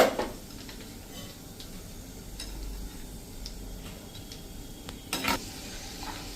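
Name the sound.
peanuts frying in oil in a slotted spoon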